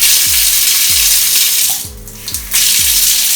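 Water flows steadily from the tap of a Midea storage water heater, a constant rushing hiss with a brief dip partway through and a few soft low thumps underneath.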